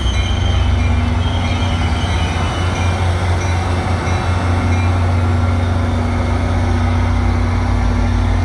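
A commuter train rolls steadily past a station platform on a curve with a loud, continuous rumble and a faint metallic whine from the wheels, no voices.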